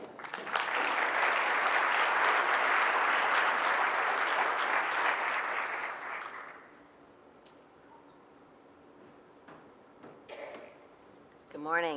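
An audience at a 2013 Global Retailing Conference breaks into warm applause for speaker Bonnie Brooks, loud and sustained for about six seconds before fading into quiet room noise and a few small clicks.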